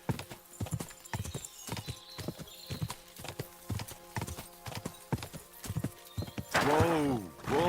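Horse hooves clip-clop in a steady rhythmic gait in the video game Kingdom Come Deliverance 2, close and distinct, followed near the end by a loud horse whinny.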